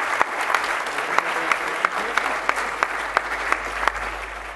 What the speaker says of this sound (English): please give Dr. David Yeo another large round of applause